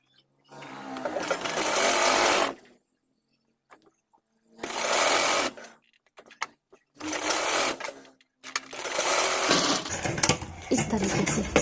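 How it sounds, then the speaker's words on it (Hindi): An electric sewing machine runs basting stitches on a boat-neck kurti in four bursts of rapid whirring, separated by short pauses with faint handling sounds. "इस तरीके से हमने इसमें कच्ची सिलाई रख देनी है।"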